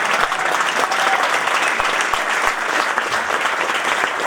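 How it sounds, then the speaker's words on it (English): Crowd applause at a ribbon-cutting ceremony for the reopening of Government Center, loud sustained clapping from a gathered group, dense and continuous with a few sharper individual claps standing out. "a couple claps in the back, the workers in the back"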